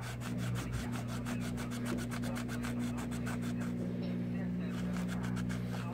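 Scotch-Brite pad scrubbing old gasket residue off a GY6 180cc scooter engine cylinder head during a top-end rebuild, a steady rapid back-and-forth rubbing close to the mic over a constant low machine hum.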